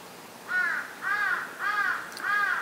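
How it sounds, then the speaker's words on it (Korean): Four loud crows caw one after another at a steady pace outside a window on a foggy morning, each call a harsh drawn-out rasp over quiet background. "자욱한 안개 속에서 까마귀가 우르대던 엊그제 아침의 창밖 풍경이다"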